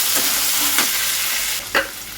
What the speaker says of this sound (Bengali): টমেটোগুলো দিয়ে দিচ্ছি হালকা ভাজা হোক